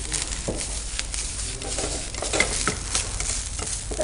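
A sweet stuffing mixture with cardamom powder being stirred in a pan: continuous scraping and soft sizzling with irregular stir strokes, close and fairly loud, with no talk.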